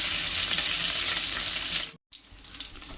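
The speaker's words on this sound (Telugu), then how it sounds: "ఉల్లిపాయలు, పచ్చిమిరపకాయలు వేసుకున్నాక బాగా కలపాలి." Onions and green chillies frying in a pan while being stirred, a loud hissing sizzle that cuts out abruptly, then returns fainter and softer.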